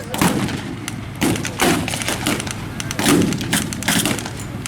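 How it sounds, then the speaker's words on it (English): Tanks firing on German tanks during a WWII battle reenactment at an outdoor show, a series of booming blasts spaced roughly a second apart, loud and echoing across open ground. "now the enemy tank is firing on the German tanks"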